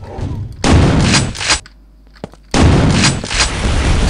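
Heavy weapon fire in Quake 2 crashes out in two loud, sustained blasts separated by a brief quiet gap with a single sharp click.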